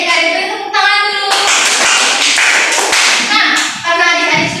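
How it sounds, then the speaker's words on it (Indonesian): A class of children claps their hands together in a classroom, a dense burst of clapping close by, with young voices calling out before and after it. "Kalau sudah paham berarti adik-adik itu tepuk tangan dulu."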